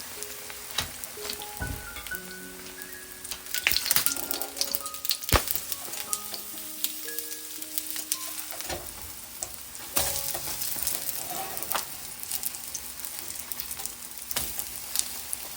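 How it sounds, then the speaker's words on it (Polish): Buttermilk pancake batter with apples sizzling and crackling in a hot pan, with scattered pops, occasional scrapes and light clatter of utensils; no talking. "I smażymy z obu stron."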